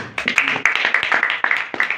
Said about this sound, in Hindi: हारिस भाई के लिए जोरदार ताली।